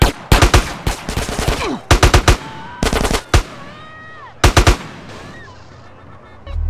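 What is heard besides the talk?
gunfire in the video game GTA San Andreas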